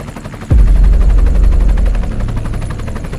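Helicopter in flight heard from inside the cabin: a heavy, rapid rotor thumping and engine roar come in suddenly and stay loud and steady.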